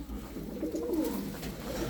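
Soft, low pigeon cooing rolls along steadily, several birds murmuring together at close range in a pigeon shop in Kocaeli, Turkey, with no talk.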